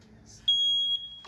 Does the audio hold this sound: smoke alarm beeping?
yes